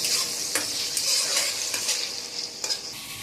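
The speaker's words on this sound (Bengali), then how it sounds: "ওদিকে কড়াতে ওই চিকেনটা ভাজা ভাজা হচ্ছে" Boneless chicken fries in oil over a low flame in a kadai for mixed fried rice, giving a bright, steady sizzle close by. A few soft stirring knocks break through it.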